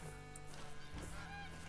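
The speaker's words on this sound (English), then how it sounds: "I can hear geese. They're Canada geese." Canada geese honk repeatedly in the hunting game theHunter, a few nasal calls at middling distance over a steady outdoor ambience, with a brief overlapping burst around the middle.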